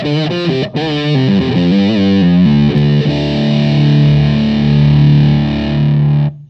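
Guitar through a JHS Muffuletta fuzz pedal, thick distorted notes bending and sliding before settling into a long, loud sustained fuzzy chord.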